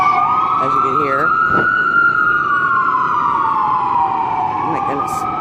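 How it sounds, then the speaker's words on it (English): Ambulance sirens wail loudly and continuously on a busy day outdoors, one steady tone sliding slowly down and back up, while a voice speaks briefly near the start. "Ambulances, as you can hear."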